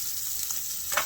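Lobster tail sizzling in hot oil in a pan, a steady, close hiss with a sharper crackling flare near the end.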